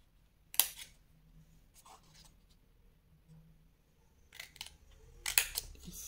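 Scissors cut scrapbooking paper along a line, a few sharp close snips separated by quiet rustling and handling noise.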